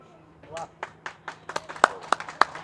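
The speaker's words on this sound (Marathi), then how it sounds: "टाळ्या वाजून त्यांचा" An audience claps at a birthday felicitation ceremony in Nashik. A few scattered claps come first, then they build into quick, fairly close applause.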